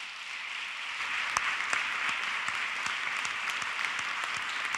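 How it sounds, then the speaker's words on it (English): An audience at a forum in Mexico applauds steadily for several seconds, a dense patter of many hands clapping at moderate volume, with a few sharper claps standing out. "Please give the Mexican people a round of applause."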